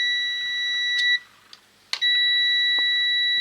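Continuity beep from a multimeter while testing a faulty television, a loud, steady high-pitched electronic tone that breaks off for under a second with soft clicks of probes, then resumes continuously.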